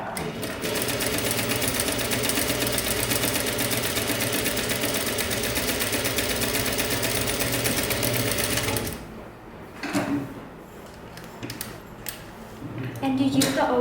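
A domestic sewing machine runs a steady straight stitch along a folded kimono jacket hem, continuous and close for about nine seconds, then stops, leaving quiet handling noises and faint rustles.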